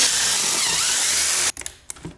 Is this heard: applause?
no